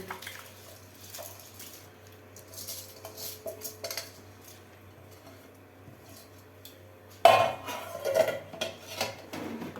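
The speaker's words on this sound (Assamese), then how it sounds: "এতিয়া অকণমান লৰাই দিছোঁ" Rice being stirred in a cooking pot while a kilogram is prepared, soft scraping and clinking of a utensil against the pot, with a louder burst of metallic clatter near the end; no talking.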